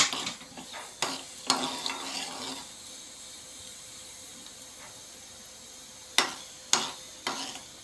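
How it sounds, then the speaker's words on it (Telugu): Mustard and cumin seeds drop into hot oil for a sambar tempering, giving a faint sizzle with several sharp stirring clatters of a spoon against the pan near the start and again near the end. "ఆయిల్ వేడైపోయింది, ఇప్పుడు ఆవాలు జీలకర్ర వేసుకుందాం."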